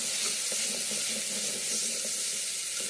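Onions fry in a pan with turmeric and ginger-garlic paste, giving a dense, continuous close sizzle with faint rhythmic scraping as the mixture is stirred.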